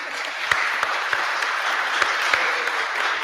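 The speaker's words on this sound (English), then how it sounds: "Round of applause for our supine superheroes" Sustained audience applause at a talk on temperaments, a dense even wash of clapping with a few sharper nearby claps standing out, continuing unbroken with no voices.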